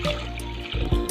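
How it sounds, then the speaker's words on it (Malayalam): Water pours from a glass into a mixer jar of cut lemons for ginger lemon juice, a short close, steady filling gurgle with slight splashes. "ഇനി ഇതിലേക്ക് 1 ഗ്ലാസ് വെള്ളം ഒഴിക്കാം."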